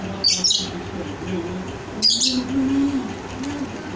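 Pet ring-necked parakeets give two bursts of shrill chirps close by, one at the start and one midway, with a low steady hum under them.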